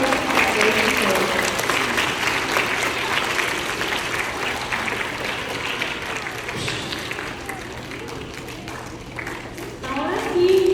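Children clapping together at a catechism retreat, a sustained wash of applause filling the room with a voice speaking over it and a fresh burst of clapping near the end.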